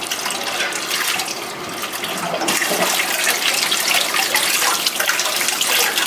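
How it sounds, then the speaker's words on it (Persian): Tap water runs steadily over mushrooms being rinsed clean, a continuous close splashing hiss with no talk. "قشنگ خوب بشوریم، سیاهی های دور قارچ گرفته بشه"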